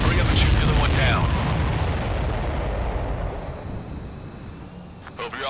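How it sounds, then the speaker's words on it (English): In Ace Combat 7, a large supply ship explodes with a heavy, booming blast that rolls and decays over several seconds, with radio voices talking over it. "Did you see that explosion?"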